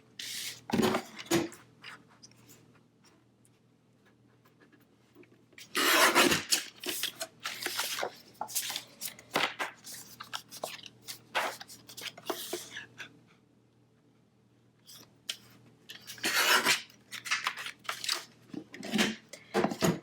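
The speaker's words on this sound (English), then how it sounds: "I'm going to trim this also down to the correct size" Green paper is trimmed to size for a planner dashboard: bursts of rustling, rubbing and cutting strokes come and go close by, separated by quiet pauses, with no talking.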